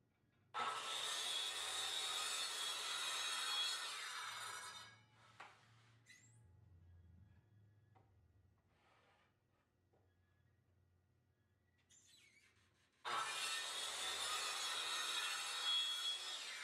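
A woodworking machine joints the rough sawn edge of a mahogany board in two loud passes, each a harsh, dense cutting roar lasting several seconds, separated by a quiet stretch of faint handling clicks and low motor hum.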